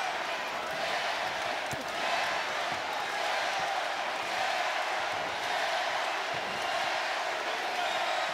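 A large crowd fills a boxing arena in Toledo, Ohio, with a dense, continuous roar of cheering that holds loud and steady throughout. Faint talk sits beneath the noise.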